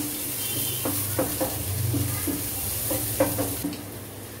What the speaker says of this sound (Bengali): এবার পেঁয়াজটা ভাজা ভাজা হয়ে গেছে একটু